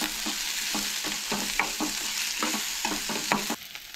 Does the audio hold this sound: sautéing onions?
yes